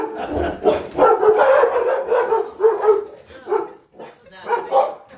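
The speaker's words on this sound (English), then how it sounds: "today we're getting to see them live and in action" Dogs bark in short bursts mixed in with people talking close by, the barks and voices overlapping throughout.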